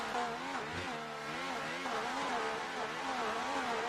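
A race car engine roars on board in a sim racing game, a steady, loud, buzzy drone with wavering pitch as revs rise and fall continuously, close and unbroken throughout.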